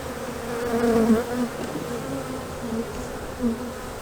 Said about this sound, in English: I have bees all over me right now